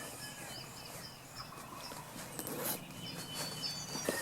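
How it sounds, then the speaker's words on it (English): A wild turkey gobbles during a spring hunt in Tennessee, a distant rattling call rising over outdoor background noise, heard once or twice in the short stretch. "This turkey's going off."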